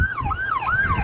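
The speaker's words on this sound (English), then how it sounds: "Overnight sirens blaring across the heartland." Emergency vehicle siren wailing up and down in loud, close sweeps during overnight storms, with no talk.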